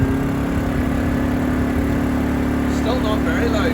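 An inverter home backup generator runs at full speed with eco mode off, giving a steady humming engine drone with a strong tonal buzz. A voice can be heard faintly near the end.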